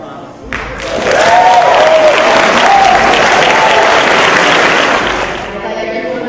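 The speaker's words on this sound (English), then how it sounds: "I'd like you to join me and everyone here in giving you a well-deserved round of applause" A crowd at a medical school Match Day ceremony breaks into loud, sustained applause that swells quickly, holds steady with a few cheers and whoops mixed in, then tapers off.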